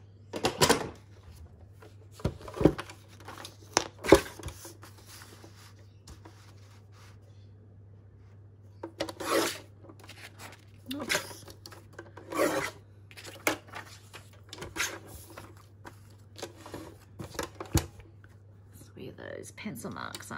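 Paper greeting card being trimmed, with bursts of rasping cutting strokes and scraping on a craft table, separated by pauses; a person talks quietly between the cuts.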